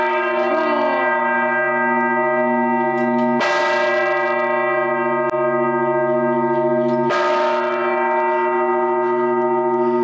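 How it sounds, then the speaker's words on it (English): A large church bell in a clock tower in Antequera, Spain rings close and loud, with two heavy strikes whose long shimmering hum sustains between them. "Big massive bell."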